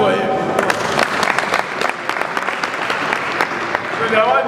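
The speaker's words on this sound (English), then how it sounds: "Please clap for him." Audience applause at an academic conference opening at LAUTECH in Nigeria, a steady patter of many hands, moderately loud with crowd murmur mixed in throughout.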